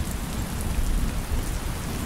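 Steady rain falls outdoors during an unexpected rainstorm, a dense, even hiss of drops on surfaces that stays constant throughout, fairly close and with no voices.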